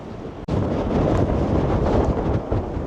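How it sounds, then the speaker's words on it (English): Strong wind blowing through a Scottish castle, heard as a loud, steady rushing roar with gusty buffeting that cuts out for an instant near the start and then carries on without voices. "It's so windy."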